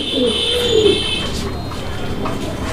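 Pigeons coo steadily at a pigeon farm where fancy breeds are kept for sale, a low rolling murmur under a constant background hum and faint high tones.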